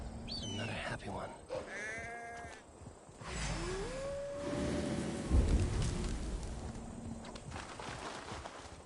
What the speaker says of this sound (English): That sounds like a sheep, and not a happy one.